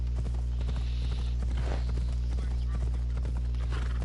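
Horse hooves clip-clop at a trot in the Assassin's Creed Odyssey video game, a steady rhythmic beat under a constant low hum and game music, with some voice activity mixed in.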